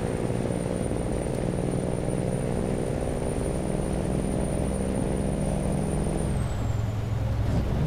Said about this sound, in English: use our jake brake to help slow us down.